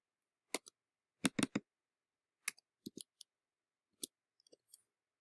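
Keys on a computer keyboard are tapped while an algebra answer is entered, giving sparse, sharp clicks in small bursts with short pauses between them, close and fairly quiet, with no talking.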